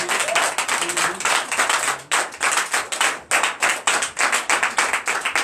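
A church congregation at Sunday worship in Comè, Benin claps together in a fast, rhythmic acclamation, with repeated loud bursts of many hands, brief pauses near the second and third seconds, and faint voices or ululation in the background.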